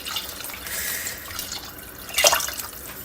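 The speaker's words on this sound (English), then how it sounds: "Just add enough water to cover this one." Water poured over candy ingredients in a pot, a soft continuous trickle and splash with a brief louder gush near the end, close and fairly quiet, with no speech.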